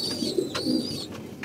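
Pigeons cooing in a coop, a few low throaty coos close by, with faint chirps from other birds in the background and no one speaking.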